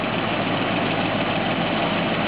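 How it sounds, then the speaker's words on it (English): A scout vehicle's engine idles with a leaking exhaust header, giving a loud, steady, close rumble with a faint ticking texture and no voices. "Sounds like I may have a little bit of an exhaust leak."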